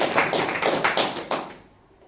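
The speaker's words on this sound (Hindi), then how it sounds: "जो लोग बोले उन लोग के लिए ताली बजाइए प्रिय।" Scattered applause from a small church congregation, a handful of separate claps running for about a second and a half before fading into quiet.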